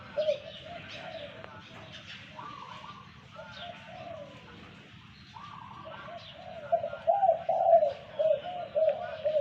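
A decoy dove coos repeatedly in soft, rhythmic phrases, growing louder toward the end, with faint background ambience and other distant bird calls.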